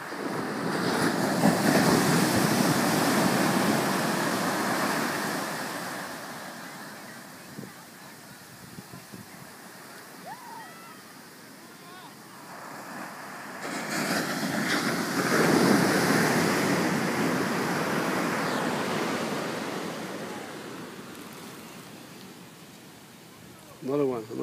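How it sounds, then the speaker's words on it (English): Ocean waves roll in and break on Flamingo Beach in Guanacaste, a broad surging wash that swells, fades and builds again, with wind buffeting the microphone. "Beautiful wave coming."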